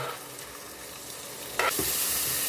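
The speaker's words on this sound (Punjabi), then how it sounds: "ਪਿਆਜ਼ ਨੂੰ ਅਸੀਂ ਚੰਗੀ ਤਰ੍ਹਾਂ ਭੁੰਨ ਲਈਏ" Onion paste is fried together with garlic and green chilli paste in a pan for a tinda curry, sizzling steadily. The stirring gets louder and brighter near the end.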